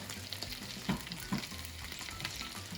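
Red pepper flakes stirred into garlic frying in oil for spaghetti: a faint, steady sizzle with a couple of soft clinks from the stirring utensil.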